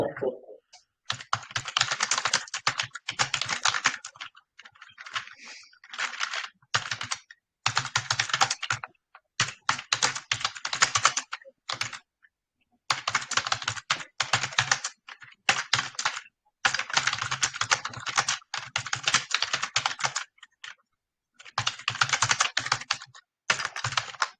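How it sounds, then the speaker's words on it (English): Fast typing on a computer keyboard, rapid dense bursts of key clicks in runs of a second or two broken by short pauses, close and clear throughout. "Typing really fast."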